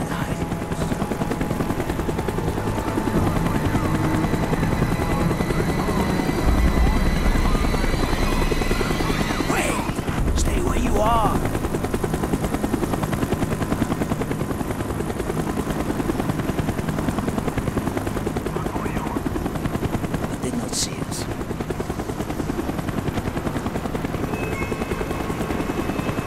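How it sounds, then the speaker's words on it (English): A helicopter in Call of Duty Black Ops flies close overhead, its loud, steady rotor thump and engine roar filling the whole stretch, with a few sharp bangs in the middle. "The chopper is coming around again."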